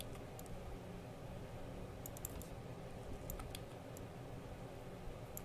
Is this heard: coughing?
no